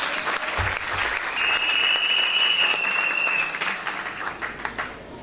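Congregation applauding at a church service, dense continuous clapping from a crowd, loud and steady before easing slightly toward the end, with a sustained high whistle-like tone over part of it.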